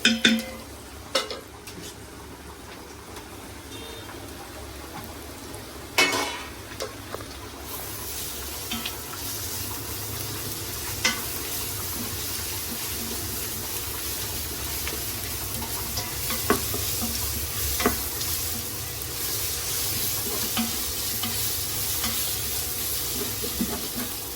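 Ginger garlic paste frying with onions in a pan for chicken curry, a dense sizzle that swells and stays loud after a few early knocks and clatters, with occasional utensil scrapes and no speech.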